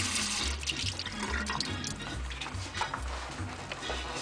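Black-eyed peas being rinsed under a running kitchen tap, a steady close stream of water splashing and gurgling in a sink with the beans shifting in the flow.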